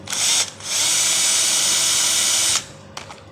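Power tool whirring as it removes four nuts from a refrigerator compressor motor, a short burst followed by a sustained high-pitched spin of about two seconds that stops abruptly, with faint clicks after.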